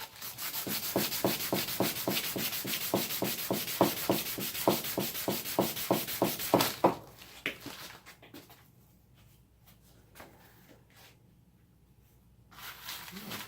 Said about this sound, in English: By moving to fresh sectors with sandpaper, it'll cut faster.